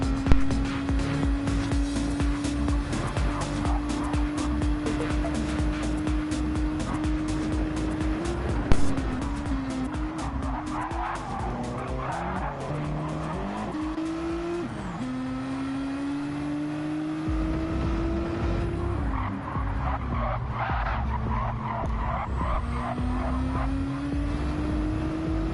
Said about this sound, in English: the GTR is in pursuit of the Alpha as they make their way into the right hand corner here of the Nürburgring GP circuit